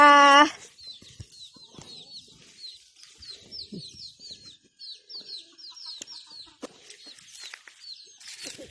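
Chickens cluck and chirp in a rural Thai yard, a busy run of short, light calls at moderate distance, opened by a brief burst of a voice.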